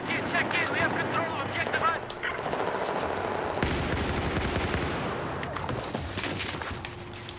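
Rapid automatic gunfire from a Battlefield 4 match, loud and nearly continuous with dense bursts of shots, while a voice talks over it.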